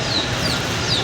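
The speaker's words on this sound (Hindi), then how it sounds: "ये ना मुर्गे बार बार बांगे दे रहा है।" A household rooster crows repeatedly; here a loud fowl call sits over a steady, noisy background with thin high squeaky tones, and no one speaks.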